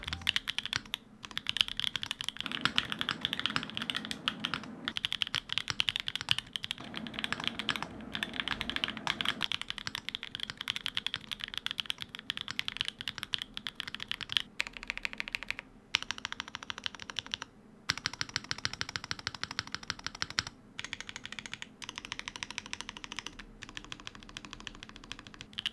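Mode Tempo mechanical keyboard with keycaps installed, typed on in steady, quick runs of crisp clacky keystrokes, close and alone for about 25 seconds, with a few brief pauses.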